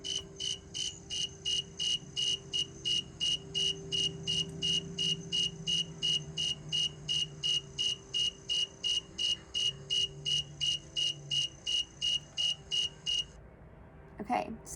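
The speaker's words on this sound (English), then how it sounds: "here is another example of a snowy tree cricket. This cricket lives in Texas." A snowy tree cricket in Texas chirps in a steady, evenly spaced series of bright pulses, clear and fairly close, before stopping abruptly near the end.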